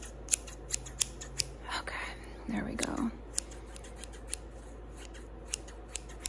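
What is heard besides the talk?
craft project scissors cutting hair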